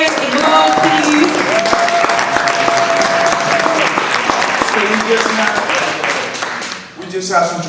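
An audience at a celebration of Indigenous women leaders gives loud, sustained applause for panel speakers, with voices, a few whoops and some tonal calls mixed into the clapping before it tapers off.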